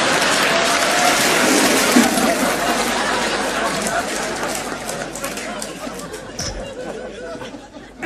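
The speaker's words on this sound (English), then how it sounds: "to thunderous applause" Audience applause and chatter in a comedy show scene, a dense wash of clapping mixed with crowd murmur and light laughter, fading gradually toward the end.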